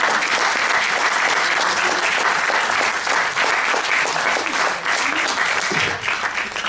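An audience claps for speaker Sophie Bessis, with loud, dense, sustained applause that continues steadily throughout.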